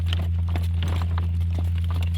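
Hooves of a horse clip-clopping at a walk along a road, a steady uneven patter of light strikes over a constant low hum.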